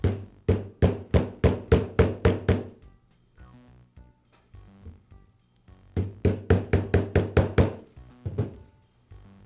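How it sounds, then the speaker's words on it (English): A mallet taps a socket over a self-locking retaining ring during a Milwaukee grease gun repair. Two runs of about eight sharp, evenly spaced knocks come close and loud, separated by softer rattling handling sounds. "I'll use a mallet to tap it into place."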